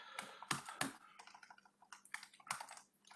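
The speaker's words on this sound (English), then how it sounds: "this is why I shouldn't be typing." Rapid, uneven keystrokes on a computer keyboard during a live coding session, close and fairly quiet, with bursts of clicks and short pauses and no talk.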